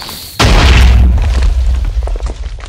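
A loud booming blast from a Minecraft cannon hits after a brief quiet lead-in, its rumble rolling and slowly fading over the next couple of seconds.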